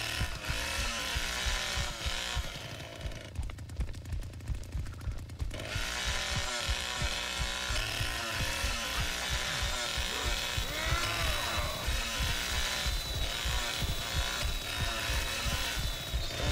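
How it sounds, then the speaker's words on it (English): A chainsaw drones steadily in the Texas Chainsaw Massacre video game, a continuous buzzing engine with brief changes in tone, loud and constant across the whole stretch. "you can't hear shit with this damn chainsaw"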